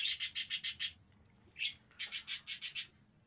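Birds in a pigeon cage give two quick runs of sharp, evenly spaced chirps with a single short call between them, close and clear over a faint low background.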